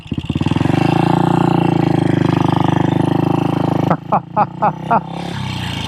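A 1966 Royal Enfield Continental GT250 motorcycle engine runs close by with a loud, steady, throbbing exhaust note for about four seconds, then drops into a string of short, sharp blips and pops before settling back to a steady idle.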